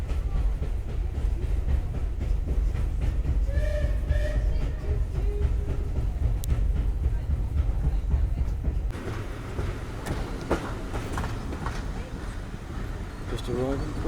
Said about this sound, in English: Just to prove we're on a steam train.